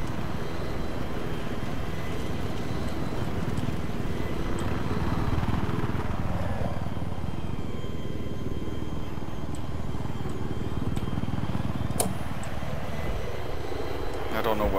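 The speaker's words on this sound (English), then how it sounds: "Helicopter in front." A helicopter in Battlefield 3 gives a steady rotor and engine roar under busy game noise, with a brief sharp burst near the end.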